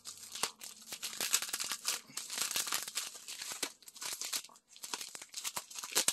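Close, crinkly rustling and tearing of plastic packaging, with sharp rips and crunches coming in quick irregular bursts, no talking.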